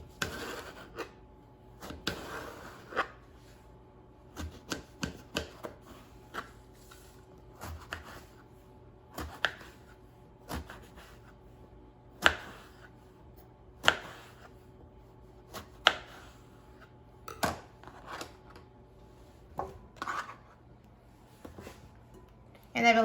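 A knife cuts through eggplant on a cutting board, irregular soft thuds and chops spaced out over quiet background hum, close and fairly faint.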